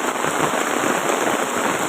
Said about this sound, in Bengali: বৃষ্টির এমন একটা সময় এত বৃষ্টি নামছে